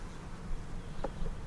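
Low, steady honey bee buzzing from a nuc hive, faint and close, bees droning continuously with no voices.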